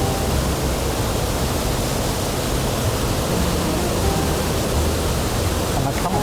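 Waterfall on Dartmoor near Black Tor Copse, a steady, dense rushing roar of falling water heard close and loud throughout with no break.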